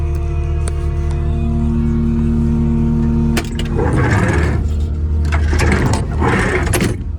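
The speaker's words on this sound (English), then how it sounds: "So I'm driving across the pasture to go put out" A vehicle crossing a farm pasture, its engine a steady low droning hum at first, then turning rougher and more rattly with louder surging bursts as it bumps along.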